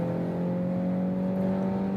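A 2023 BMW X1 23i accelerates at full throttle in normal driving mode, a steady, moderately loud engine drone with a rising whir heard from inside the cabin.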